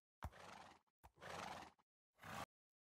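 Horse in Minecraft neighing three times in quick succession, each whinny loud and close with short silent gaps between, no talking.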